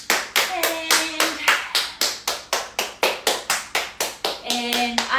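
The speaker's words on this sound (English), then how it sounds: "Let's clap our hands." Hands clap in a steady, evenly spaced rhythm of about a dozen sharp claps during a fascia movement class, close and distinct, with brief vocal tones sounding between some of the claps.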